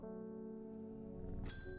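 A bell rings once near the end of a short stretch of steady tonal music in the plant-shop puzzle game Strange Horticulture, with a bright, ringing strike over the background.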